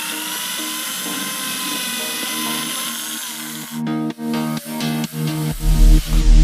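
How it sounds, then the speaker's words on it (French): A power drill whines as holes are drilled and screws driven into a wooden stepladder, a close, loud tone that stops and restarts in short bursts toward the end, with a low thump at the finish. "je vais d'abord percer les trous, puis après visser les vis."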